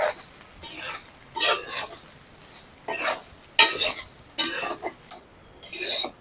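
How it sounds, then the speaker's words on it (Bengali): Soybean chunks frying in a pan with turmeric for a vegetarian soybean and potato curry, stirred in repeated scraping bursts with clinks of a utensil against the pan, close and moderately loud. "এই সয়াবিনটাকে আমি লাল লাল করে ভেজে নিই"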